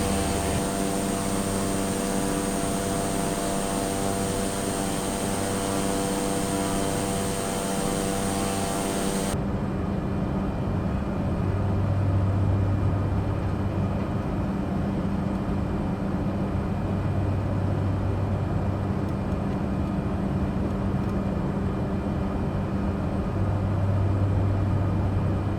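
Light aircraft climbing toward 10,000 feet over Kota Kinabalu in Microsoft Flight Simulator 2020, a steady droning engine hum with a constant tonal whine that shifts in character partway through, continuous and alone.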